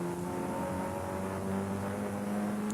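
Production saloon race cars from a 1988 championship round at Brands Hatch GP hold a steady, droning engine note at sustained revs, loud and continuous throughout.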